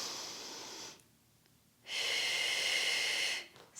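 Slow, controlled breaths during a floor exercise with one knee down: a long airy exhale, a quiet pause, then another long breath, close and fairly loud, with no talking.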